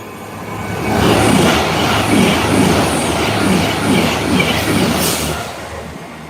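Loud, steady rumble of a train passing through Nuneaton Station with rhythmic wheel clatter and a brief high squeal near the end, no voices.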